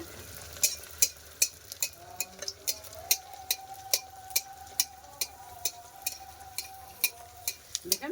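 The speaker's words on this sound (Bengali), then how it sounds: "তেল ছুড়ে দিচ্ছি তা ফুলে উঠছে এমনি তেলটা ছিটিন ছিটিন দিতে হবে গরম তেলটা" Mughlai paratha fries in hot oil as oil is splashed over it, with a steady sizzle and rhythmic ladle clicks and splats at close range.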